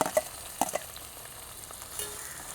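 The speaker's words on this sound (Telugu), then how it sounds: "దీంట్లో బాగా ఏగిపోయాయి టమాటాలు." Tomatoes fry in a pan for gongura chicken, giving a soft continuous sizzle with a few light scrapes and clinks of stirring early on, quiet and close.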